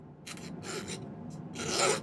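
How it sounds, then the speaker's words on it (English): Three or four bursts of rough rasping strokes, a hand file scraping back and forth on a silver pendant, close by and fairly quiet. "I need to clean it up a little more with the file"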